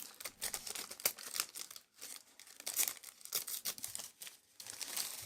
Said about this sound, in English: I'm actually going to rip this in half